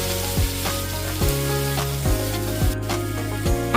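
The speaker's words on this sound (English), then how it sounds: "Stir-fry the vegetables well." Vegetables stir-fried in a hot pan for a Korean dish, a steady close sizzle broken by regular scraping stirs roughly every 0.8 seconds, with no talking.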